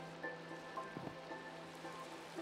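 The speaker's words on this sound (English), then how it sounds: "I hope the rain will stop." Steady rain falls in a video game, a soft, even hiss with faint scattered drop taps that continues unbroken throughout, with no talking.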